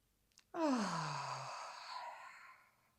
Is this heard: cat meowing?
no